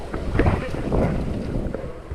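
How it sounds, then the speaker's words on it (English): Gusty wind on a mountain summit on Saba island buffets the microphone in uneven bursts, a rough roaring rush close up with no clear voices. "windy up here"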